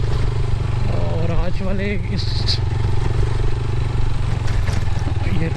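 A motorcycle rides over a badly broken road in Pakistan, its steady engine drone running throughout with rattling and clattering from the rough surface, while someone speaks briefly over the noise.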